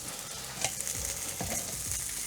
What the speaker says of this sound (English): We're just gonna let that fry.